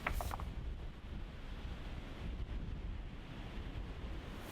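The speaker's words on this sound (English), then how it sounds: "As they did, the waves grew around them." Storm waves churn and wind roars on a large freshwater lake at night, a dense, continuous wash of noise that stays loud and even throughout.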